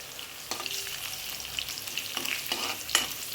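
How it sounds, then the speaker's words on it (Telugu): Garlic, dried red chillies and tempering spices fry in hot oil with a steady, close sizzle, broken by a few sharp crackles and spatters. "అలాగే ఎల్లిపాయ, ఎండుమిర్చి కూడా వేసుకోవాలి. వాటిని కొంచెం బాగా వేగనివ్వాలి"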